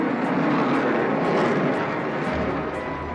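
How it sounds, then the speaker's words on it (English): A Eurofighter Typhoon fighter jet flies past with a loud, broad, steady roar that holds throughout and eases slightly toward the end. "One of the most powerful combat planes in the world, the Typhoon can break the speed of sound in just 30 seconds."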